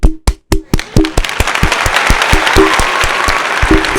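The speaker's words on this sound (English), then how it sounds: "I just want to give a shout out and a hand clap for Rich right now" Applause and hand clapping for a person: sharp separate claps open the burst, then build into dense, loud, continuous clapping from a small group, close and steady to the end.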